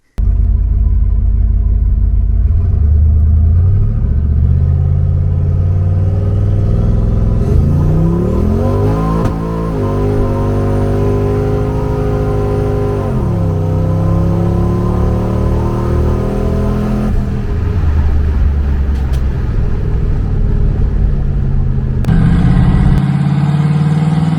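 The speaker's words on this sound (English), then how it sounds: "make a quick test pass from a dig" A turbocharged Mercury car launches from a dig on a drag strip, its engine revving loudly and climbing through rising pitch sweeps, dropping briefly between gears, then idling and revving again close by.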